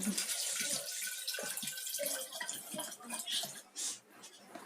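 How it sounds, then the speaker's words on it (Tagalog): Water pours and splashes steadily into an indoor plant container at close range, fairly quiet, with a few small drips and clinks near the end. "Tapos, pilapan ko lang ng tubig."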